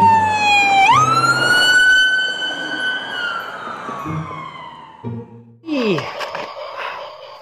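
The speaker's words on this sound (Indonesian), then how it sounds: "mobil polisi." A toy police car's wailing siren, loud and close: one long rising-and-falling tone that fades, then a fresh burst of siren sound near the end.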